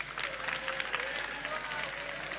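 A young audience at a youth awards ceremony applauds itself, a dense, steady wash of clapping mixed with crowd chatter and a voice over the top throughout.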